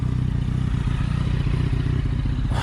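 A motorcycle engine idles and thrums close by with a steady, throbbing low drone and some light clatter, and a brief burst of noise comes at the end.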